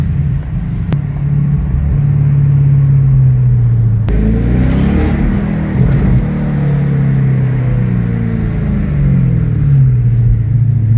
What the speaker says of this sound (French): Il a dit faire ronfler le moteur.